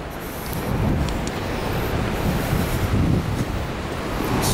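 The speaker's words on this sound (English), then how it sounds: "Yeah, you know, it's kind of windy here." Strong wind buffets the microphone at the Pancake Rocks coast, a constant loud rushing roar with low gusty thumps and the wash of surf beneath, no speech.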